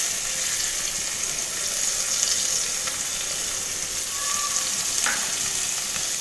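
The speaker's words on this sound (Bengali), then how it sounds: "এবার এর মধ্যে কুচি করে কেটে রাখা পেঁয়াজগুলো দিয়ে দেব।" Chopped onions dropped into hot oil with black cumin seeds, a dense, steady, loud sizzle that holds throughout with no talk over it.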